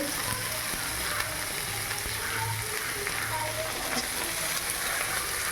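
Onion and peas frying in a hot pan for a semolina breakfast dish, giving a steady, close sizzle that runs without a break and with no talking.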